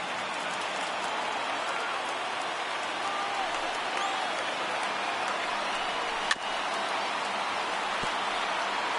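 A ballpark crowd in MLB The Show 19 rises to its feet, a broad, steady roar of cheering and applause held at an even level, with one brief sharp crack partway through.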